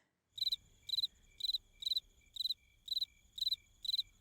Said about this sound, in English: Where are these freaking crickets?